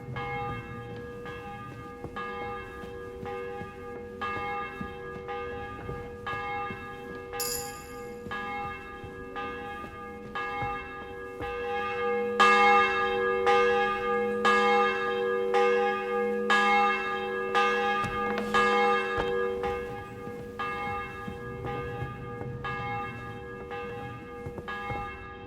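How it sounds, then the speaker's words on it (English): A church bell tolls repeatedly and evenly in the medieval village of the Kingdom Come Deliverance 2 video game, each strike ringing with a long resonant hum, the peals growing louder midway before fading back down. "The bell's ringing for Hans the 5th time."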